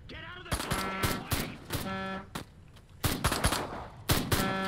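Bursts of alien-game gunfire from Destroy All Humans! crack out in several loud, separate volleys, each a rapid rattle of close shots with short pauses between them.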